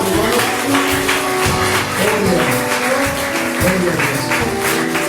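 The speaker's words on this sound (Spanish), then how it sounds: "Damos un aplauso al Señor Jesucristo" A church congregation applauds during a worship service. The clapping is dense and continuous throughout, with sustained instrumental tones beneath it.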